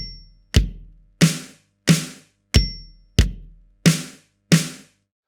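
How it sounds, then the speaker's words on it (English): Drum kit groove for a song: eight evenly spaced hits in a bass, bass, snare, snare pattern played twice, punchy and close, with no talking. "And we're going to start off with basically 1, 2, 3, 4, bass, bass, snare, snare, repeated twice"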